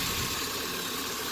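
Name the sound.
5.7 LS1 car engine running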